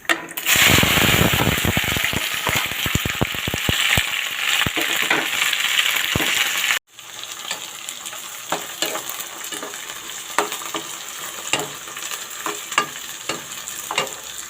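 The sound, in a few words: okra frying in oil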